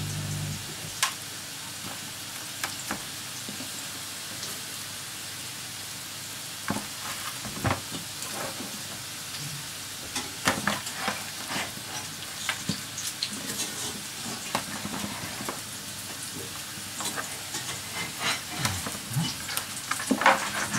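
Pork ribs sizzle in fat on a baking tray, a constant hissing fry broken by sharp crackles, pops and occasional clinks as they are turned, steady and fairly close.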